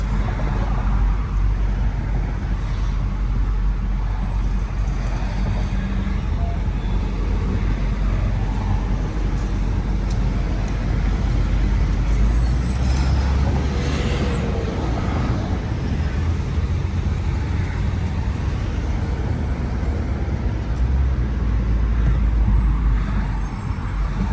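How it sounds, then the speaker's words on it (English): A school bus and other vehicles pass in steady traffic, with a constant low road rumble and a brief hiss of air brakes midway, heard from inside a car. "guess I have to let the school bus get in front"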